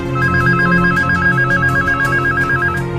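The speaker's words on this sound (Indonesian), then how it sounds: "telepon telah berdering" A telephone rings loudly and close, a fast warbling electronic trill that repeats without a break over a low musical bed.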